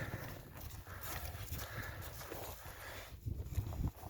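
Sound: horse walking

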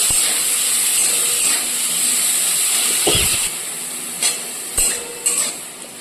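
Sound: ridge gourd frying in oil with chilli and cumin

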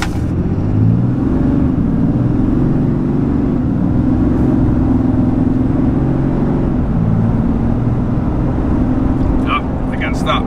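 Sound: diesel pickup truck accelerating at full throttle

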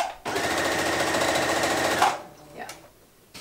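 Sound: sewing machine running at medium speed

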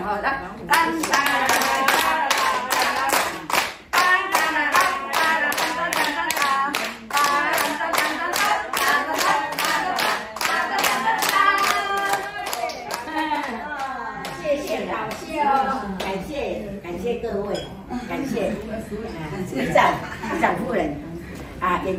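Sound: audience applause

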